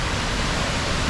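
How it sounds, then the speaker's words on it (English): Falls Creek Falls in Washington pours as a continuous broadband roar of falling water, close and steady, with no voices over it. "this beautiful waterfall"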